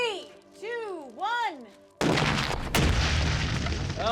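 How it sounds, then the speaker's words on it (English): Backup C4 charge set off by a failsafe at an outdoor test site, a loud sudden blast that rumbles on and stays dense after a brief spell of whooping, siren-like tones. "Yep, the backup boom works a treat."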